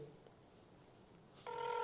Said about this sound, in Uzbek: Gudok ketyapti azizlar